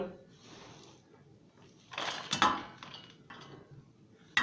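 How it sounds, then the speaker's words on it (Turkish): A kneading bowl is set down with a clatter and clink of kitchenware, close by, amid soft handling noises while a person talks beside chopped cabbage for pickling. "Buraya yoğurma kabımı alacağım."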